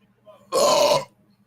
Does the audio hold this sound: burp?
yes